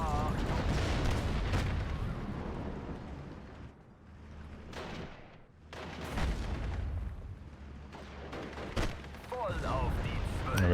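Grenade explosions and gunfire in the World War II strategy game Steel Division: Normandy 44 come as loud repeated booms and rattling shots, dense at first, easing briefly, then resuming, with someone talking over them.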